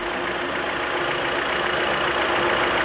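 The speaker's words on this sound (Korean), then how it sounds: "엔진 소리 한번 들어보고 가시겠습니다" A Hyundai YF Sonata's engine idles steadily, a constant close hum and whir with no talking.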